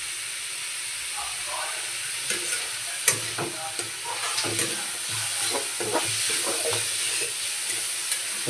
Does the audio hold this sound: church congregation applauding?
no